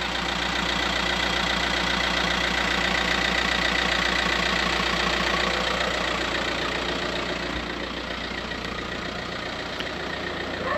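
A 2003 Audi A4 B6 TDI 130 hp diesel idles steadily, heard from outside the car: a loud, continuous close-up clatter with an even rhythm and no talk.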